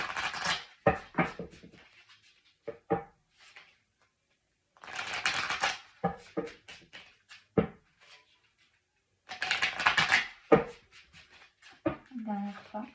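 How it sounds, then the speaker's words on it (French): Tarot cards being shuffled by hand, heard as bursts of rapid papery riffling separated by pauses, with someone speaking French between and over the shuffles. "On me demande de mélanger les cartes."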